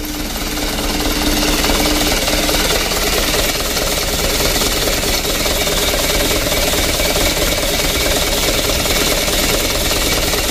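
Mitsubishi Canter truck engine idling, a loud, steady diesel clatter with rough, shaking vibration running unbroken throughout.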